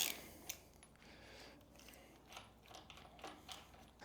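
Ratchet wrench loosening a bolt on a new Toyota 1FZ-FE engine during assembly for an 80 Series LandCruiser, a quiet run of close mechanical clicks and metallic ticks.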